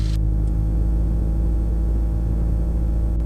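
Mooney M20C aircraft piston engine holding a steady loud run-up drone on the left magneto during a mag check, constant and close with a brief higher whine at the start.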